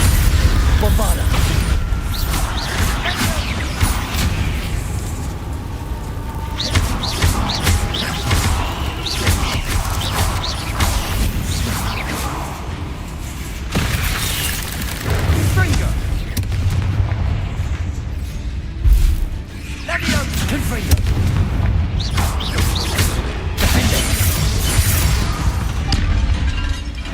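Spell explosions from Confringo and Bombarda in the video game Hogwarts Legacy, a run of loud booming blasts over a dense, continuous battle din, with several heavy hits standing out at intervals.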